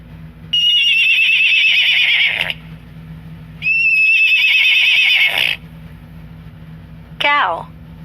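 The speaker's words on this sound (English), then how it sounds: "Horse." A horse whinnies from an animal sound app, two long shrill neighs with a pause between them, then a short squealing snort at the end.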